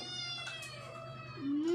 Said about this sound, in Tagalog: Yan, nakulong yung pusa niya. Ang liit ng kulungan.